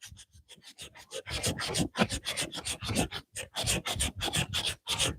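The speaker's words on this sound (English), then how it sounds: "Nothing I hate worse than sanding by hand." Hand sanding of wood on a farm, brisk back-and-forth rasping strokes in an uneven rhythm, close up and fairly loud, each scrape separated by short pauses.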